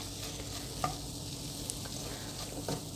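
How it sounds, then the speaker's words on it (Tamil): Egg podimas is stirred around a pan, giving a steady, even sizzle with a few light spatula taps and scrapes. Close and fairly quiet, with no talking. "சட்டியில் எல்லா இடமும் சுற்றி இருக்கிறது வந்து கீழே இருக்கிறது எல்லாமே நல்லா வந்து கிண்டி விட்டுருங்க"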